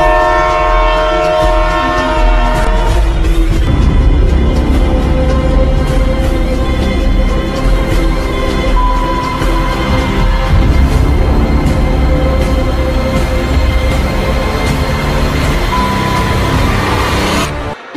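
A train at a railway station, loud and close, with a sustained horn blast at the start giving way to the continuous rumble and rattle of passing rail cars, no talk.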